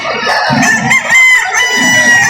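A six-month-old Kanawayon rooster for sale at a Lipa City, Batangas poultry market crows close by, a loud drawn-out cock-a-doodle-doo with other birds clucking and calling in the background.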